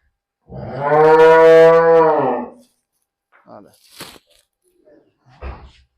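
A single long, loud, close bellow rings out from buffaloes and a heifer on a Punjab village farm, followed by scattered faint knocks and shuffles in the pen.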